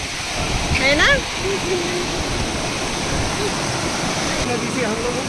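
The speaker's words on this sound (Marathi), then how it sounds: "बहुत बहुत जोरदार बहाव था नदी का" Loud, steady rushing roar of a strong river current, broadband and unbroken throughout, with a voice calling out briefly over it near the start.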